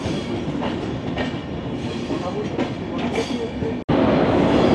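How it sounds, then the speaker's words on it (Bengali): Humsafar Express passenger train rolling into Moradabad station, a steady loud rumble of wheels and carriages heard from on board, continuous throughout with a brief dropout near the end. "আমাদের ট্রেন হামসাফার এক্সপ্রেস ঢুকছে মোরাদাবাদ স্টেশনে"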